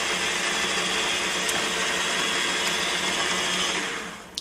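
A mill drills through metal with a progressively larger bit, a steady loud whirring motor drone with a grinding edge that holds evenly and tapers off near the end, no voices.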